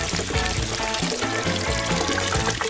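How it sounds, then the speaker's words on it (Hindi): Milk poured into melted chocolate in a saucepan makes a steady close liquid pour with a faint burbling trickle throughout, loud and unbroken for a few seconds, with no talk. "इसे सॉस पैन में पिघलाएं और फिर थोड़ा दूध डालेंगे"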